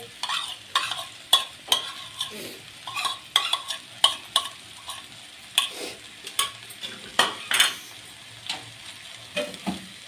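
Pasta being stirred with ketchup in a pan: repeated sharp scrapes and taps of a spoon against metal in an irregular rhythm over a faint sizzle, close and alone.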